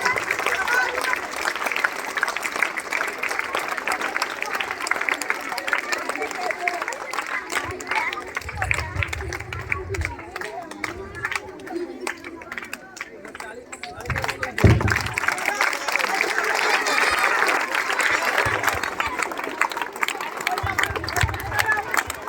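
Students at the annual function of Mahamadapur Govt. High School clap steadily to welcome a guest onto the stage. The dense, continuous applause fills the hall, with a few louder swells and a brief voice nearby.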